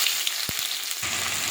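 Chopped onion and prawns hit hot oil with five-spice, a close, dense sizzle with a couple of sharp knocks, then the frying hiss thickens and continues.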